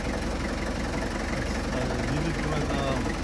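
Manual car engine idling steadily during hill start practice on an incline, a continuous low rumble with light knocking under voices of people talking.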